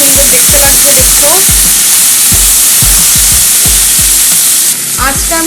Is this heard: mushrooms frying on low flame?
yes